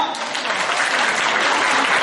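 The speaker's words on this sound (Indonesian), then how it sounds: "Tepuk tangan dulu dong." Seminar audience at a parenting event in Lamongan breaking into sustained applause, dense steady clapping from many hands filling the room throughout.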